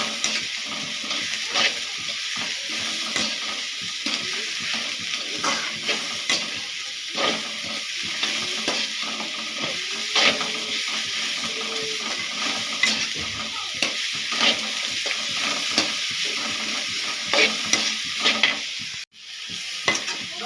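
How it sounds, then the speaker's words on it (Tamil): Cabbage tossed with a little salt in a pan for Tamil cabbage thoran, giving a steady sizzle with a soft steam hiss under repeated stirring scrapes, continuous and close with no talk. "கொஞ்சமாக உப்பு போட்டு வதக்கிக்கலாம்"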